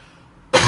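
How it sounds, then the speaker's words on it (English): One sudden, harsh cough bursts out close and loud at the end, after a moment of near quiet. "I'm going to cough"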